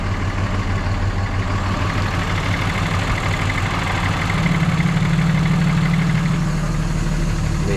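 A warmed-up 2006 Ram diesel pickup engine idles close by with a deep, steady rumble, then shifts to a slightly heavier, rougher drone partway through as the exhaust brake engages.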